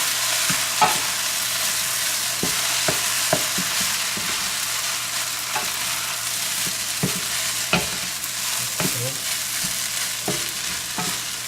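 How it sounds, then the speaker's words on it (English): Chicken fried rice with soy sauce stirred in a hot pan, giving a loud, constant sizzle broken by frequent sharp clicks and scrapes of the utensil, close by, with no voices. "Stir it up."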